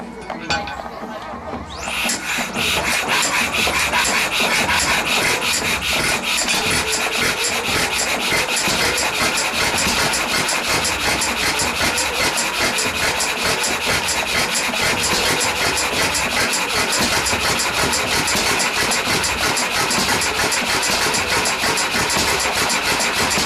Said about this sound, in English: So the user had to hand crank the machine to start it.